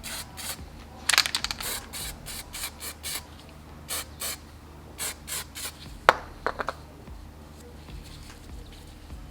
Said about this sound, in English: give it a quick coat of primer so it doesn't rust